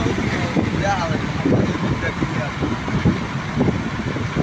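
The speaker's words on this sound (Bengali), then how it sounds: "গাড়ি এখন হাওয়ার বেগে চলতেছে হ্যাঁ হাওয়ার বেগে চলতেছে" Continuous rumble of a car driving fast in Oman, with wind rushing past and a voice talking over it.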